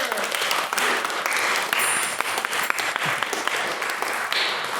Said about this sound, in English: Can we give another round of applause for our maiden speaker?